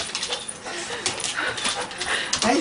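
A dog whimpers and whines in short, high, close-up yelps at a reunion with a soldier, while people talk excitedly around it.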